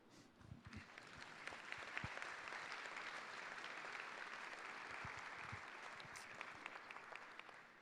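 An audience at a French school ceremony applauds the school staff and its leaders, a steady, even wash of many hands clapping from a distance with no speech over it.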